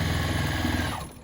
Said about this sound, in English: Now I'm just going to sew across.